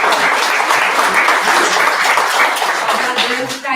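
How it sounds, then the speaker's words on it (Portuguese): An audience at a public talk applauds, giving steady, dense clapping that carries loudly through the whole stretch and tails off slightly at the end. "nós vamos aplaudir a nossa irmã"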